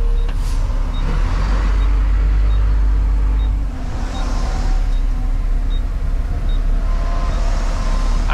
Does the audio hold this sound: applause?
no